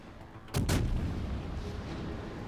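Ship guns firing in a naval battle video game, one heavy booming salvo that rumbles low and lingers as a long fading roar under faint background noise.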